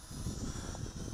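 An SG700 folding camera drone lifts off under manual control, its small propellers giving a steady, close buzzing whine with a constant hum throughout.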